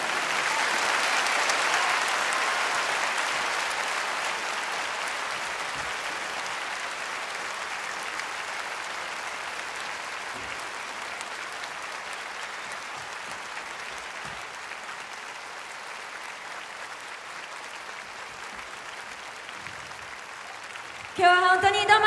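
A large audience at a 2011 concert applauds continuously for about twenty seconds, the clapping dense and steady before slowly thinning, with a brief louder burst at the end.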